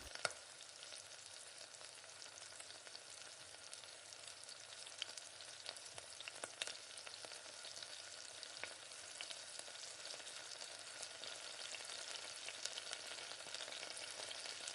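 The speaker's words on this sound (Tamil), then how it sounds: "உப்பு சேர்த்து நல்லா வதக்கி விடுங்க." Onions sautéing in oil with salt make a continuous, fairly quiet crackling sizzle, with faint scraping stirs now and then and no voices.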